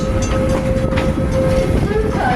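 A tour train rolls through Greenfield Village, a steady loud rumble of wheels and carriage with a sustained whine running throughout.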